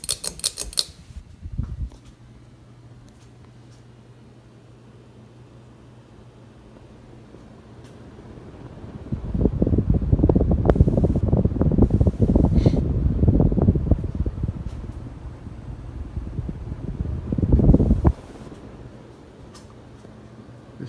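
An Emerson Premium ceiling fan running on high gives a steady broadband whoosh of moving air, faint at first and swelling loud through the middle before easing off; no talking.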